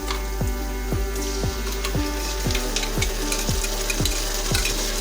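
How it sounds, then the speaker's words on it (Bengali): Ginger garlic paste frying on a very low flame in a wok for chicken bhuna khichuri, a steady close sizzle broken by rhythmic scraping stirs roughly twice a second. "এখন এটাকে আমরা মিনিট 5 ধরে একেবারে লো ফ্লেমে কষতে থাকবো।"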